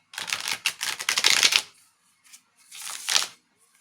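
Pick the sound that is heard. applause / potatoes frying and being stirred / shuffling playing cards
shuffling playing cards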